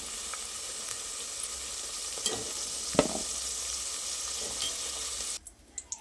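Ivy gourd (tindora) frying in oil in a kadai, a steady close sizzle with faint stirring scrapes and small pops throughout, dropping off sharply near the end.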